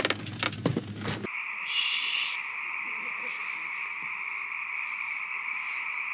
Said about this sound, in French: Oui, c'est le son des crapauds ici.